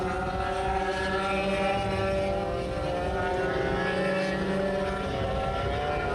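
Racing go-karts on a Maui track, heavy and light divisions including Yamaha-powered light karts, with engines droning loud and steady throughout, a continuous buzzing roar of several machines together.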